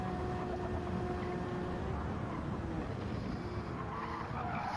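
A race car spins out during a GT Sport Le Mans 12-hour sim race, its tires skidding and squealing in a long, steady rush of loud engine and tire noise with no voices.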